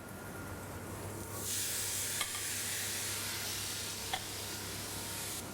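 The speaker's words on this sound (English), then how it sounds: "Give that a stir" Garbanzos and black beans stirred with onions and garlic in a hot pan, a steady close sizzle that rises in loudness partway through, with a couple of brief scraping taps from the spoon.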